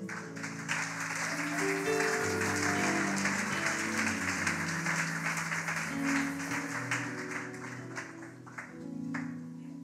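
Church congregation applauding during worship, a sustained wash of clapping mixed with sung or held musical tones underneath, steady and fairly loud throughout.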